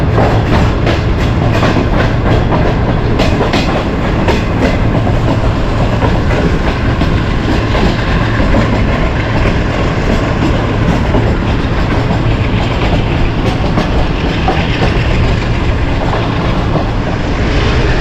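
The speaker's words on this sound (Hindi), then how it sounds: "दोस्तों ट्रेन जो है वो रफ्तार पकड़ रही है" Shalimar Express train on the Lahore line gathering speed, a loud continuous rumble of wheels and carriages with steady rhythmic clatter throughout, close by with no talk.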